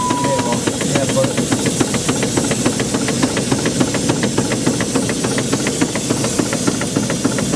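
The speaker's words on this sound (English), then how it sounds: "The only noise you can hear there is the pumps working." A Stanley steam car runs with its pumps and valves working, a rapid, regular ticking and hissing rhythm with a steady steam hiss, loud and close, while people talk quietly nearby.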